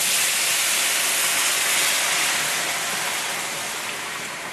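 Hot beef broth, two cups, pours into a hot cast iron pan and hisses loudly in a steady, dense sizzle that slowly fades over a few seconds, with no voices.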